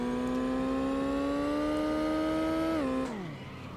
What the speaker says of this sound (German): Uiuiui, der schlittert aber ordentlich, der Wagen.